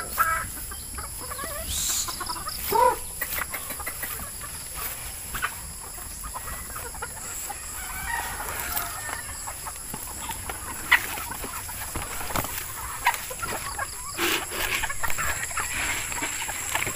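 Four-month-old Beatles White chickens cluck and call intermittently at a small breeder's coop, soft scattered bird sounds over a faint hum, with no talking.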